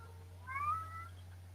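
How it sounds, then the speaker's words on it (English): A cat meows once outside a door, a single faint rising-and-falling call over a low steady hum. "he's meowing outside the door"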